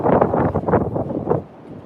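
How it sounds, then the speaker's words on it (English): Strong wind buffets the microphone in heavy, rumbling gusts that pulse roughly every half second, loud and close, then ease off toward the end. "That wind is crazy."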